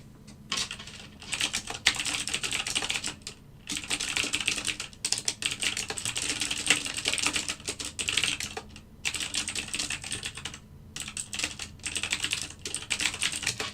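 Rapid clicking of keys on a computer keyboard during a typing test, with bursts of fast typing separated by brief pauses, close and fairly loud, with no talking.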